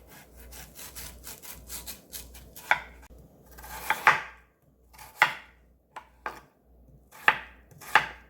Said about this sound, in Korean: 나박나박 썰어주세요